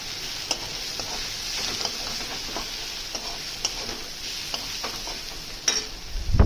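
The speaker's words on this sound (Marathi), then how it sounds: "आता चांगलं मिक्स करून घेऊ" Masala is stirred into a simmering egg curry in a pan, giving a soft, continuous scraping and sizzle with occasional sharp clicks of the spoon against the pan, and a louder clatter near the end.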